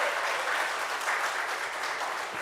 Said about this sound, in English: I find all your clapping kind of dying, you know.